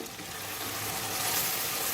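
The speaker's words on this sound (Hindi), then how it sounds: "अब चिकन को इसी के साथ भूनूंगी अच्छी तरह 5 मिनट।" Chicken fries with garlic and ginger for a guar bean curry, making a dense, continuous hiss of frying that stays even and fairly loud throughout.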